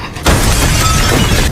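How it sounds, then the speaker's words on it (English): Glass panes in a door shatter in a sudden loud crash during a tense home-invasion thriller scene, followed by a dense wash of breaking and scattering shards for over a second. "breaks the glass on the door"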